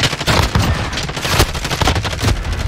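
Dense automatic gunfire in a Call of Duty Search and Destroy match, rapid overlapping shots and bursts filling the whole stretch at close, loud level with no talk.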